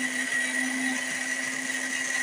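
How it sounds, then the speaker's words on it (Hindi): An electric grinder blends tomato, green chili, onion and ginger into a paste, giving a steady, close motor whine that holds at an even level for the whole stretch. "टमाटर और हरी मिर्च डाल के हम लोग इसको ग्राइंड कर लेंगे।"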